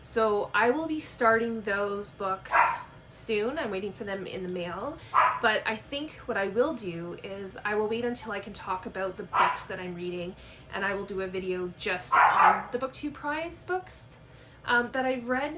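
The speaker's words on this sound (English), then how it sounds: "I apologize that my dog is barking." A pet dog barks and yips repeatedly in the background, mostly under continuous close talk from a woman.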